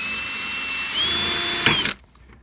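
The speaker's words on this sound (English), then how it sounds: "let's go ahead and drill the top since I got my bit in there" A power drill whines steadily as it bores into the top rim of a plastic bucket, rising in pitch midway, then stops abruptly, leaving faint room noise.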